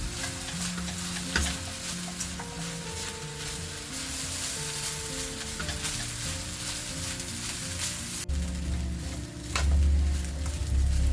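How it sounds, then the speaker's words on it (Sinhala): Fried rice with shrimp, chicken and sausages frying over high heat in a pan, a steady close sizzle with stirring scrapes and clatters throughout, no talking. "දැන් මේක අපි වැඩි ගින්දරේ විනාඩි 3ක් විතර හොඳට ෆ්‍රයි කරගන්න ඕනේ"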